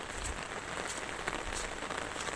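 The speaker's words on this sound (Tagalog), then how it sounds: "Ito ngayon, umuulan." Steady rain falls on a hard surface along a rough road, a dense continuous hiss with scattered drop patter, fairly faint and without any talking.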